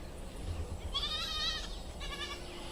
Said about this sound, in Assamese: মানুহে গৰু ছাগলী নি আছে